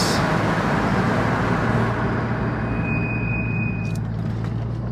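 A rebuilt widebody Corvette, once totaled and now lowered on coilovers, drives along a road with a steady, moderate engine and tyre drone. A thin whine briefly rises near the end, and no one speaks.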